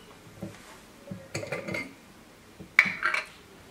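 Dishes clinking while harissa is spooned into a sterilized jar, a few scattered clinks and knocks of glass and metal, fairly close and quiet, with no talk.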